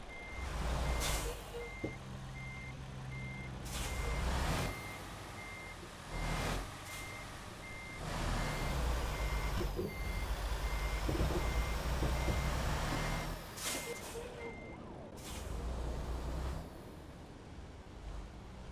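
A tow truck in American Truck Simulator backs up with steady, repeating reversing beeps over a heavy diesel idle, with brief pauses between bursts and occasional air-brake hiss.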